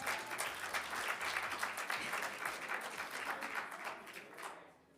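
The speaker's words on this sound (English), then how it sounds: "Give her a round of applause." An awards-ceremony audience at a journalism awards event gives a full round of applause, thick continuous clapping from a large crowd that holds strong and then tapers off in the final second.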